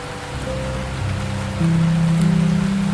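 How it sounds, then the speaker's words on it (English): Steady rain hisses continuously at an Amazon eco-lodge, with a low droning hum underneath that grows slightly louder partway through. "the rain is falling outside and you are warm within it"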